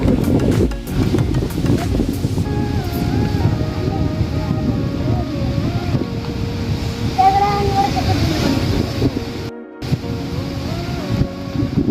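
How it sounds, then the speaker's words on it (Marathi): Rough sea waves surge and churn below Ratnadurg fort on the Ratnagiri coast, a continuous heavy roar heard from above with strong wind buffeting the microphone, while a voice talks and a tonal whine drifts through the background. "किती समुद्र खवळला बघा"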